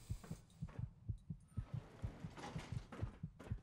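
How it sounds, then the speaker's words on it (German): Fallout 4 heartbeat thumping rapidly and steadily, each soft low pulse evenly spaced, with faint ambient hiss and a few muffled game noises around it. "Man hört das Herzklopfen halt auch schon."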